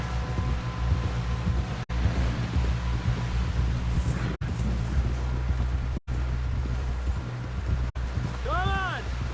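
Horse hooves clip-clop in Red Dead Redemption as the horse carries riders toward a camp, a rhythmic trotting beat under wind and background noise, with short gaps in the sound and a brief whinny-like call near the end.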